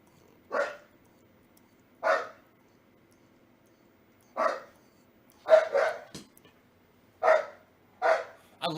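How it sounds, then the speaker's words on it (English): A dog barks in short single bursts spread across the clip, some coming in quick pairs near the end, fairly close and clear over a quiet room hum. "I love that he barks now."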